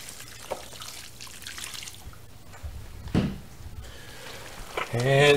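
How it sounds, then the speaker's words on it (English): Water poured and trickled into ground sausage meat for brats with high-temperature cheddar and brat seasoning: soft splashing and dribbling amid kitchen handling noise and a sharp clatter near the end. "A little more water."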